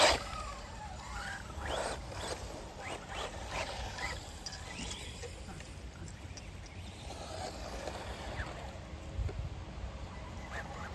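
An Associated RC10 40th Anniversary radio-controlled car runs continuously for several seconds, its small electric motor giving a steady whirring buzz with bursts of wheel and gravel crunch. The car stays fairly close throughout.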